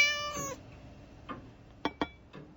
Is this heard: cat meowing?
yes